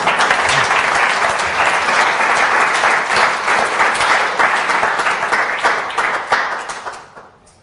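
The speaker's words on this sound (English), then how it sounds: "I think that deserves a round of applause." A conference audience breaks into sustained, loud applause after a talk on a government data ethics framework, the clapping continuing steadily before fading away toward the end.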